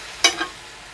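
A large fork stirs food in a small Dutch pot, giving two short scraping, sizzling strokes close by, the first louder than the second, then quiet.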